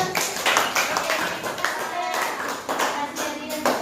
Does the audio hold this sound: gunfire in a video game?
no